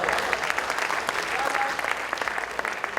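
Dense audience applause fills a Hindi poetry gathering at the Ghongha Basant Sammelan, a steady roar of many hands clapping close and loud throughout, with no voices rising above it.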